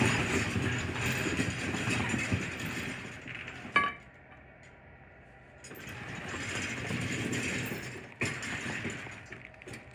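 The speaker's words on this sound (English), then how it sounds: "back of the chain, pull down and raise the door." An overhead coiling door at a loading dock being raised by pulling its chain, giving a quiet rattling, clinking mechanical sound with a sharp clank partway through, then a brief lull before the rattling resumes.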